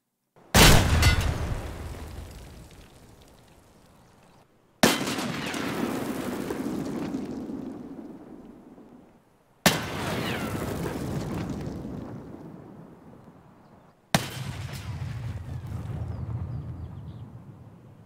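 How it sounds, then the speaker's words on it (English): A fragmentation grenade explodes outdoors in Escape from Tarkov, heard four separate times as sharp loud blasts, each followed by a long rumbling decay lasting several seconds. "the next test of impulse noises was the explosion from a fragmentation grenade outdoors"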